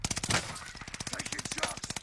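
Rapid automatic gunfire in a video game, a steady rattling stream of shots for about two seconds, moderately loud with no talk over it.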